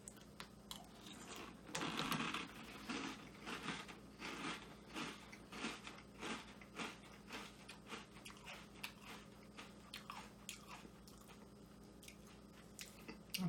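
Close-up crunching of hard ring-shaped breakfast cereal eaten in the evening, a steady run of loud, sharp bites and chews repeating for several seconds with no talking.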